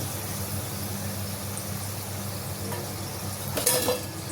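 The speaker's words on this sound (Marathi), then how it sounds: "बाकीचे इतर मोदकही तळून घेऊ" Wheat-flour modak dumplings deep-fry in oil over a low flame, making a continuous even sizzle near the mic, with a short utensil clatter toward the end.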